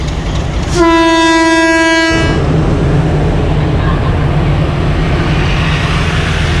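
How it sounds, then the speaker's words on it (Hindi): A loud, steady train departure horn blasts for about a second over the constant rumble of a nearby locomotive engine, which keeps droning afterward, as the Mehar Express leaves Multan Cantonment station. "ने डिपार्चर हॉर्न कर दिया"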